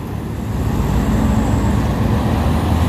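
A large loaded dump truck grinds uphill on a steep road, its heavy engine a steady low rumble that stays loud and close the whole time, with no voices.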